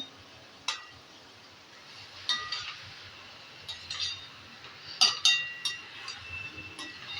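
Rice being added to a hot pan and stirred with a spoon while making dalimbya bhat, with light scattered clinks and scrapes against the metal over a quiet background.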